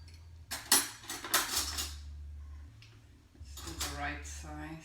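Cutlery and dishes clink in a kitchen as a spoon is taken while making chicken-free dumplings with flour in a bowl: several sharp metallic taps and scrapes over a low hum.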